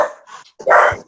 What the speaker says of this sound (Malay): Waduh, anjing nak join kita ke?